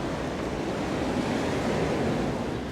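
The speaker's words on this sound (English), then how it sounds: "the sounds of sea are very relaxing here" Sea waves washing against the rocky shore near Delimara Lighthouse in Malta, a continuous broad roar of surf mixed with wind buffeting the microphone, steady and close with no speech.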